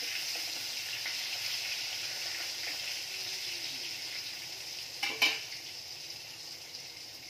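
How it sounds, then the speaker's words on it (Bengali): Eggplant slices frying in a pan give a continuous bright sizzle, with a short clatter of a utensil against the pan partway through, no speech. "বন্ধুরা আমি বেগুনগুলো ভেজে রেসিপিটা পুরো করে নিই"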